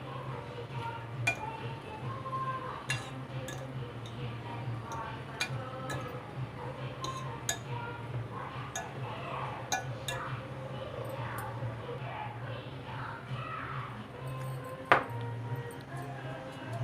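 A spoon clinks repeatedly against a bowl while potato filling is mixed with onion, green chillies and tomato for an aloo sandwich, light irregular taps close by over a low steady hum.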